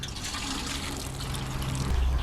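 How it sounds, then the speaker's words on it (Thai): Microbe-mixed water trickles and splashes onto a layer of bamboo-leaf compost in a garden, a brief, steady outdoor pour. "จากนั้นเราก็ทำการลดน้ำนะครับลดน้ำในชั้นที่2นะครับ"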